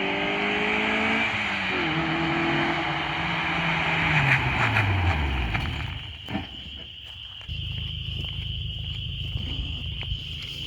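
An autocross race car engine revs and climbs through the gears, its pitch rising and falling as it accelerates. It then drops to a lower, steady drone, loud and close with no talking over it.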